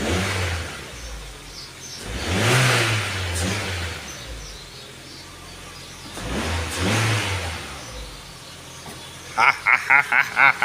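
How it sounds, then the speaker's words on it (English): A Ford Fiesta Mk6 with a 1.4 engine, raised on a jack stand, revs up twice in long swells and settles back toward idle between them, close and fairly loud, with a quick run of clicks at the end. "let me just test out the revs real quick"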